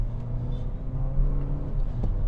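Peugeot 3008 mid-size SUV, a 2022 model, driving out of traffic and accelerating, heard from inside as a steady low engine and road rumble with a slight rise in revs.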